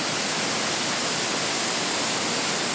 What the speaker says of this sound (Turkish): Iğdır Tuzluca ilçemizde bulunan en yüksek şelale